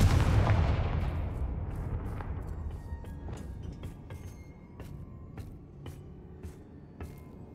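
The Confringo fire spell in Hogwarts Legacy bursts as a loud booming explosion that rolls off into a long fading rumble, with sharp crackling pops continuing as it dies away.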